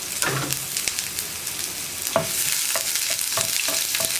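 Chopped onion frying in hot oil after mustard seeds have popped, a bright continuous sizzle with scattered stirring taps and scrapes in the pan, heard up close without any voices.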